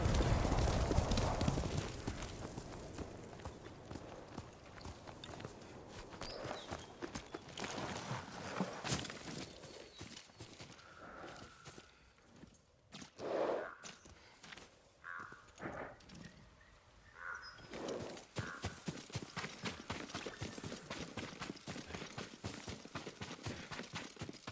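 Horse hooves in the video game Ghost of Tsushima clip-clop at a steady walking pace, moderately close, with occasional shuffles and knocks mixed in and no talking.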